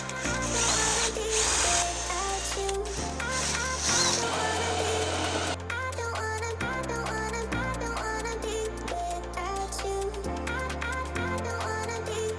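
A power drill whirs loudly and steadily at close range, its pitch shifting between several sustained levels as it bores holes through wood.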